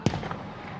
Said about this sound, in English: And the cannon fires.